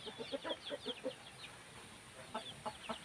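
A Burmese chicken kept in a rural Thai village clucks in short bursts, a quick run of soft clucks, a pause, then a few more, faint and fairly close in a quiet yard.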